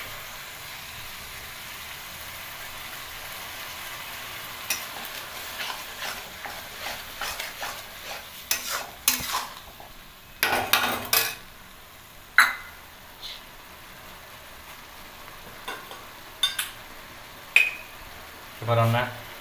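A ground paste of dried red chilli, cumin and coriander fries in a pan for a mutton kosha, a low sizzle under scattered spatula scrapes and stirring knocks that grow more frequent toward the end.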